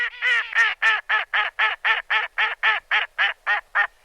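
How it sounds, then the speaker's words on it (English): A duck quacks in a rapid, evenly spaced series of about fifteen nasal calls, close and clear with silence between each quack. "A duck goes."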